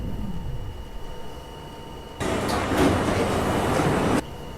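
A subway train in a Roblox NYC transit simulator rumbles along, a low steady hum suddenly swelling into a loud, broad rushing roar for about two seconds before dropping back to a quieter drone.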